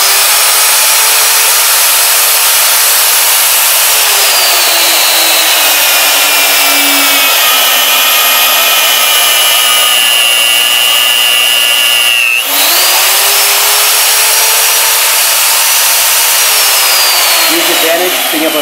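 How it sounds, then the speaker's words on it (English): Alfra Maglogix magnetic drill press running an annular cutter through metal, a loud steady motor whine with rising and falling tonal pitch, a brief dip near the middle, held throughout close up. "Now we're set up for annular cutting."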